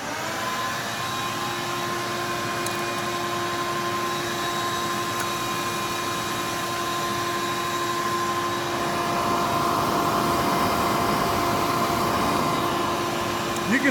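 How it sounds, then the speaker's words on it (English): Shop vacuum pulling air through a dust shoe on an 80 mm CNC router spindle gives a steady, loud whooshing drone with a faint whine that holds level throughout and swells slightly near the end. "You can feel it's a pretty good amount of suction here."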